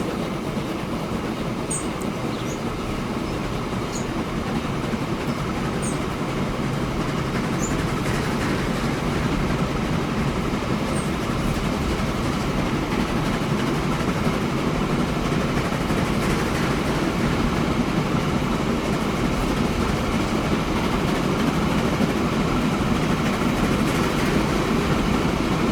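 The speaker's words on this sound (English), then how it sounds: "So you're going to see a freight train through a passenger station" A freight train rolls steadily through a passenger station in the Transport Fever 2 game, its continuous rumble and rattling wheels holding at an even, fairly loud level for the whole stretch, with faint high chirps above and no talking.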